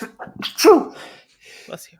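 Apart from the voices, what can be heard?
sneeze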